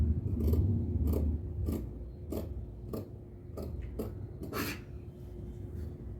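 Scissors cutting blouse fabric along a curved line, with about eight crisp, close snips at a steady rhythm and a softer rubbing sound underneath, with no talking.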